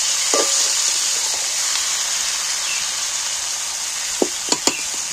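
Chicken pieces land in hot oil over onions for a homestyle Bengali chicken curry, giving a steady, close, hissing sizzle with a few sharp utensil clicks near the end and no talk.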